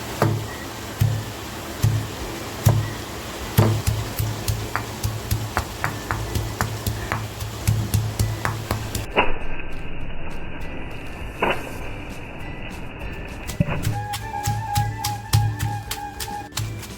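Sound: coarsely crushing chilli masala for chicken thecha

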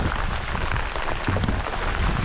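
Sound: rain

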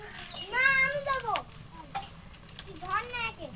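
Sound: spices and dried chili added to frying pan

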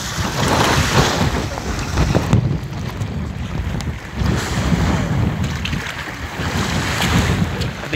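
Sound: strong wind at sea on a fishing raft

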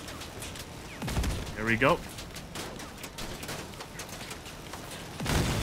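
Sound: Pulsar guns firing in Crossout video game

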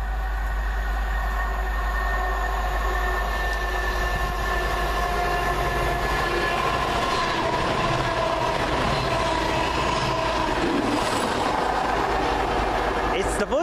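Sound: CrossCountry Voyager passenger train passing

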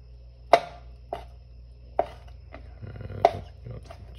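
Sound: chopping food with a sharp knife

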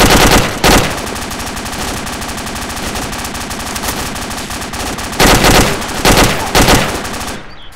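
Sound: machine gun fire and reloading in video game ArmA 2 ACE

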